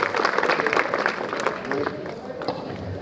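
A crowd at an awards ceremony in Kishangarh claps loudly for Sabir Sahab, a busy burst of applause with voices mixed in, tapering slightly toward the end.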